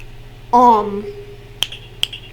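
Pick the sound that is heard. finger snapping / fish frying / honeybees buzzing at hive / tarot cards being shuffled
finger snapping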